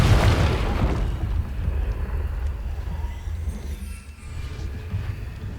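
A Confringo spell blasts in the Hogwarts Legacy video game with a loud, booming explosion at the start that rolls off into a long, low rumbling decay.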